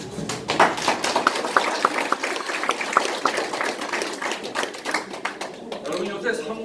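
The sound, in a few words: audience clapping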